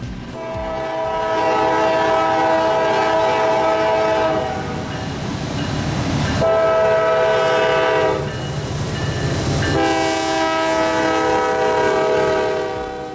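A freight train of liquids tank cars rumbles past with repeated long, loud horn blasts sounding in sequence over the steady roll of railcars.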